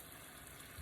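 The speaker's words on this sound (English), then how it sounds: "My neighbor is cutting his grass in the middle of the winter time." Faint, steady engine drone of a lawn mower cutting grass outside in winter, distant, with no talking.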